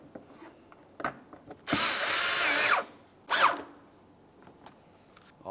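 A power drill drives wheel well screws into a Volkswagen Jetta in two close bursts, a longer whirring run and then a shorter one, with light handling clatter between them.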